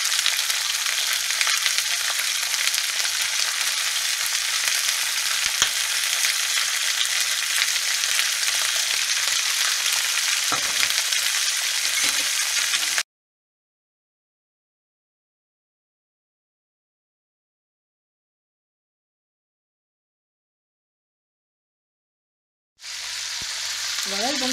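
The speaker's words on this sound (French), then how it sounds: "Voilà, donc les morceaux de viande sont revenus." Lamb and chicken pieces browning in salted olive oil sizzle with a steady, loud frying hiss for about thirteen seconds, then silence, and the sizzle returns near the end.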